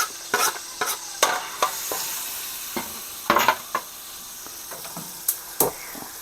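Garlic stir-fried in a pan for pork chops, with scattered spatula scrapes and clicks over a steady soft sizzle, louder bursts coming at irregular intervals.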